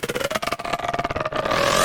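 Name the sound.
vocals through heavy chorus effect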